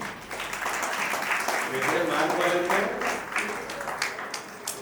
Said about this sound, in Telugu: చప్పట్లు కొట్టండి అమ్మా